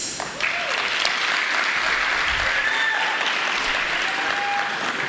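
A large crowd applauds steadily and loudly with scattered whistles and cheers at the launch of a regional youth games, sustained applause for the Paralympics athletes.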